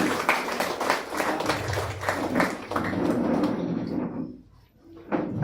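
Applause from an audience at an awards ceremony honouring unorganised sector workers: a dense, steady wash of many hands clapping, fairly loud, thinning out briefly near the end before picking up again.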